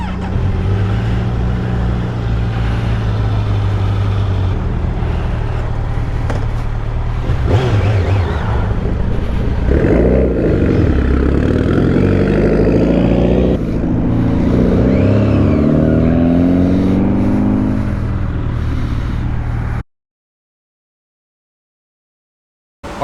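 A Kawasaki Z900 motorcycle starts up cold and idles with a low, steady engine rumble, then revs and pulls away, its pitch rising through gears with wind noise before the sound cuts off abruptly near the end.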